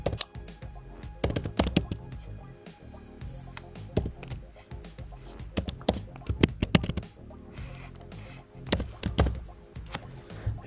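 Keystrokes on a computer keyboard as a command is entered at an admin command prompt, an irregular run of sharp taps and clusters over about ten seconds, fairly close and moderately loud over faint background.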